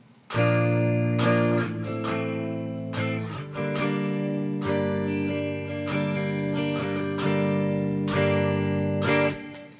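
Steady acoustic guitar strumming pattern with repeated chord strokes in a regular rhythm, ringing chords sustained between strums, close and clear with no voices.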